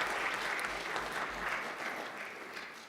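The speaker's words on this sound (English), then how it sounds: "I would like to give you a little applause for that" Audience applause fills a courtroom during a mock trial competition, a steady, dense clatter of many hands clapping throughout, fading slightly toward the end.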